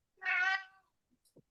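A single cat meow rings out close and clear in a quiet room during a public commission meeting, followed by a few faint small knocks.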